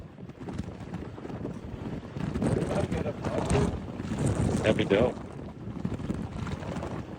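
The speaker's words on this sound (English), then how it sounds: "But it's windy as shit, dude. It's like 50-mile-an-hour winds." Gusty wind of around 50 mph buffets the microphone in rumbling bursts, with people talking casually over the roar.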